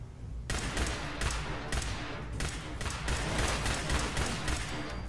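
A Mr. Gutsy robot in Fallout 4 fires rapid bursts of gunfire, a dense stream of loud sharp reports with a few stronger blasts, sustained and close for the whole stretch.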